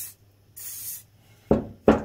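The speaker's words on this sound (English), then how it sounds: "we'll get some silicone spray on there now while we can." Silicone spray from an aerosol can applied to the triple clamp of a Honda CB750 K2 motorcycle: two short sharp hisses close up, followed by two louder knocks.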